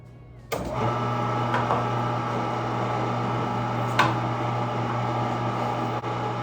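Cabela's commercial meat grinder running while stuffing Italian sausage into casings: a loud, steady motor whir and grinding drone that starts abruptly and holds constant, with a couple of faint knocks.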